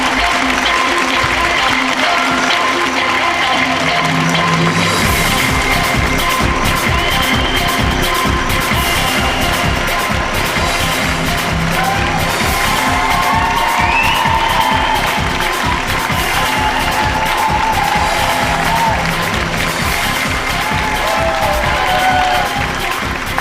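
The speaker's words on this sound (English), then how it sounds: "please give a big Most Haunted cheer for our frontline troops in the battle against scepticism" A live television studio audience at a Halloween paranormal show applauds and cheers for the presenters, loud and sustained clapping with whoops filling the room throughout.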